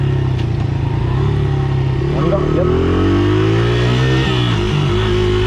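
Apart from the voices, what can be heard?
Honda XR motorcycle engine revving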